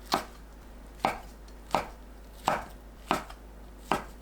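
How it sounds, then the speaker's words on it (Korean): A knife chops fish cake into bite-size pieces on a cutting board, six sharp, evenly spaced thunks close up, with no talking. "어묵을 한 입 크기로 썰어주세요"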